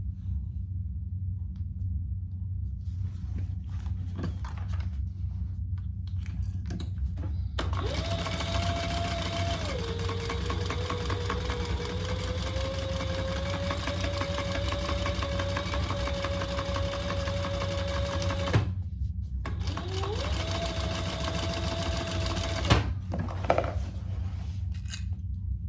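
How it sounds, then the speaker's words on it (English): A sewing machine top stitches a shoulder bag in a long steady run of rapid whirring, stops briefly, then resumes for a shorter burst, with light handling noises in between. "Sew it, turn it, and top stitch it."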